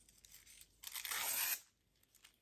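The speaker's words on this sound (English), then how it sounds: "So let's just tear this" Paper torn by hand for a no-sew journal, a single close, crisp rip lasting under a second after a few small rustles.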